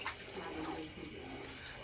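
Water is poured into a pot of mutton biryani while cooking. The trickle is soft and brief, with no one talking.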